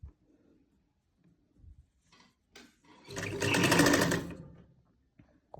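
A sewing machine stitching fabric for a back neck cutting job, a near, steady mechanical whirr that rises for about two seconds and then stops, preceded by a few soft handling clicks and no talk.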